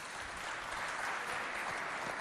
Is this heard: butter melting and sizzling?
no